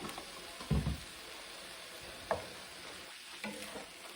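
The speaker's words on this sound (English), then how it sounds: "these are all my veggies that I am sauteing" Cabbage and other vegetables sauté with a heaping spoonful of garlic in a pan, giving a steady close sizzle and crackle with a few brief clatters of stirring and no talk.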